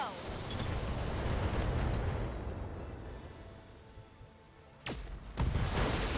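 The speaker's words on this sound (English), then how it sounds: "Ammo explosion, very nice. Critical hit." A loud, rumbling blast from an ammo explosion in the mech video game BattleTech roars and fades over several seconds, followed by sharp impact cracks.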